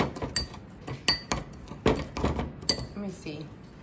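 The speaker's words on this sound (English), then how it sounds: "And then we're just gonna stir it up like so" A spoon clinks against a small bowl while stirring a homemade face scrub mixture, giving a series of sharp, irregular metallic taps close by, with a voice speaking between them.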